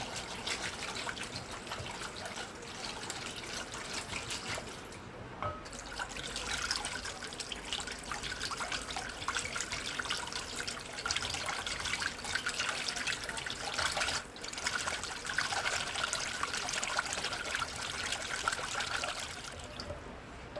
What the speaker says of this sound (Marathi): आणि आता मी हे आहे ना रवीने छान असं घुसळून घेते